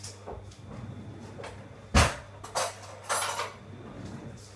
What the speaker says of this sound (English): Now wait, I'll just get my knife.